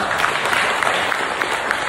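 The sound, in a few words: applause for students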